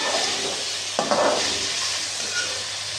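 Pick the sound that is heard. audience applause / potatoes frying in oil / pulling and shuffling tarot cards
potatoes frying in oil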